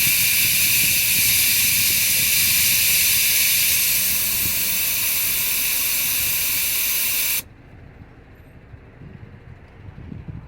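Air hisses loudly and steadily out of a truck tyre as a small hex key holds the valve open, then cuts off abruptly, leaving quiet background noise.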